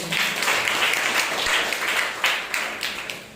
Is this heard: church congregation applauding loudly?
yes